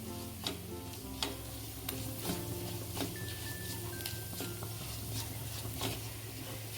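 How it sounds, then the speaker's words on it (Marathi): Curry leaves and turmeric sautéing in a pan for spicy kat vada masala, a soft steady sizzle with spoon scrapes and taps at irregular intervals, quiet and close with no voices. "थोडासा कढीपत्ता टाकला आहे परतून घेऊ छान अर्धा टीस्पून हळद टाकते हळदही परतून घेऊ आपण"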